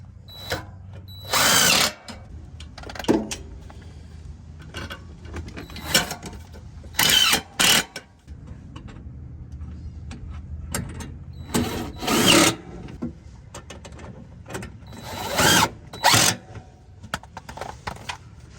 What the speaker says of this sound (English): So now we just got to install our bolts.